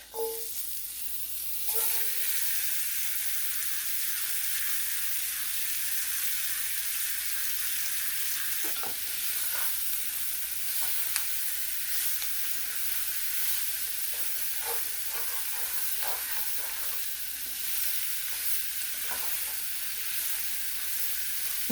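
Peppers and onions sizzle loudly in butter in a pan, a steady hissing crackle throughout with occasional light stirring knocks, and no voices.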